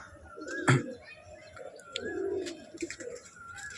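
Madras pigeons coo softly at close range in a home loft, low murmuring calls with a sharp flutter or knock and some chirps mixed in.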